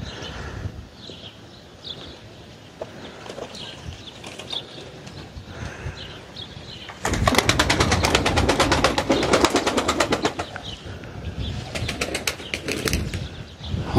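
Tumbler pigeons take to the air, with a burst of loud rapid wing flapping close by in the middle, then softer scattered flutters, with no talk.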